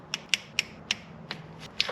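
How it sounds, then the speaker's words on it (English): A torque wrench tightening oil pump bolts on a classic Honda engine, a handful of sharp, close ratcheting clicks spaced unevenly in a quiet setting. "I can go torque down the oil pump"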